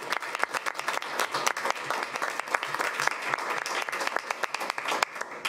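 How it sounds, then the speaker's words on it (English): Audience applause fills a school board of education meeting room, a steady wash of many hands clapping at moderate loudness throughout. "Let's give them a round of applause."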